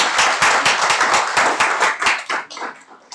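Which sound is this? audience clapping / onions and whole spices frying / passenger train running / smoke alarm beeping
audience clapping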